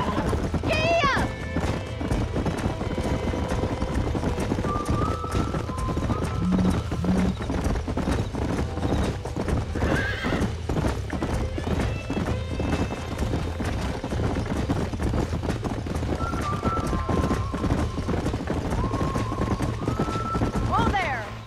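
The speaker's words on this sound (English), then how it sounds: "Well done, Mr. Marston. These are fine horses." Horses galloping and neighing in the Western video game Red Dead Redemption, with steady rapid hoofbeats throughout, whinnies breaking in now and then, and someone speaking over the hooves.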